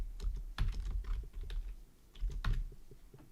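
Computer keyboard being typed on while writing Python code, a quick irregular run of soft clicks and taps, near and fairly quiet, with no talking.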